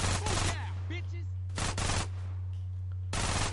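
Minigun fire in GTA San Andreas comes in three loud sustained bursts of rapid gunfire, separated by short gaps, over a steady low game hum.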